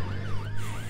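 A wailing police siren in the Roblox game Brookhaven, rising and falling steadily over a low engine drone, loud and continuous with no talk.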